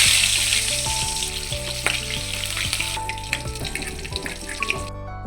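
Hot oil sizzling in a pan makes a bright, steady hiss with scattered crackles. A tonal background hum or music sits beneath it, and the sound cuts off abruptly at the end.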